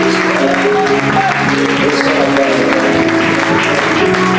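A church congregation claps and cheers in praise during a worship service, a steady dense wash of applause filling the room with voices mixed in.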